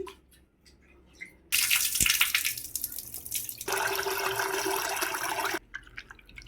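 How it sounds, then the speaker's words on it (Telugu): Soaked lentils being washed by hand in water, with a steady rush of running water and splashing swelling loud for several seconds, then dropping to a quieter trickle and drips. "శుభ్రంగా రెండు మూడు సార్లు కడిగేసుకోవాలండి"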